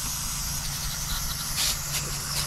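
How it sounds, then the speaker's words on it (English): Carb and choke cleaner is sprayed from an aerosol can onto intake engine parts of a BMW 335i, a steady close hiss with a few brief stronger pulses, no speech over it. "I'm using carb and choke cleaner because I don't know where my MAF cleaner went"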